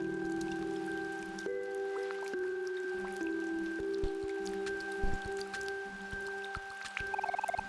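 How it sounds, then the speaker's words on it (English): Light rain in the video game OMORI, a soft continuous patter of drops under sustained tonal game music, with small splashy ticks scattered throughout. "The rain is slightly lighter now."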